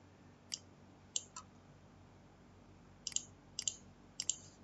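A computer mouse gives sharp, isolated clicks, five or six in total, spaced irregularly with a quick double click among them, crisp and close against a quiet background.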